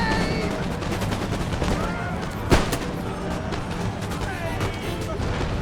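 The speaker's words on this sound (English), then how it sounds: "ready for a volley" British line infantry in Empire Total War fire a musket volley, a sharp crack rising above a dense, continuous din of battle gunfire, with someone talking over it.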